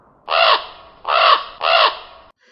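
A raven caws three times in a steady rhythm, loud and near with harsh, drawn-out calls, used as a sound effect for a poetry narration. No voice is heard.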